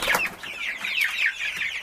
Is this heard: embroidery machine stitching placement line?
no